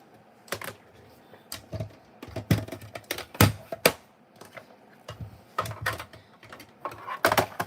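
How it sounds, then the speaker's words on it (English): A mini Stampin' Cut and Emboss machine at work, giving off irregular sharp clicks and thumps in uneven bursts, fairly close, with no talking. "I will grab my mini Stampin' Cut and Emboss machine."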